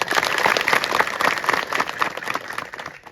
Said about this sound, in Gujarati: એના માટે જોરદાર તાળીઓ પાડી